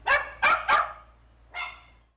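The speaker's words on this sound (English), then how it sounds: "Barks and yelps fill the halls of Palm Valley Animal Center." Dogs at the Palm Valley Animal Center shelter bark in three quick, loud, echoing bursts, then a single later bark after a short pause, with the calls reverberating through the halls.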